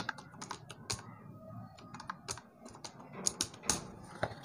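Irregular soft taps of an email name being typed on a mobile phone keyboard, close and quiet with uneven rhythm and brief pauses, no voices.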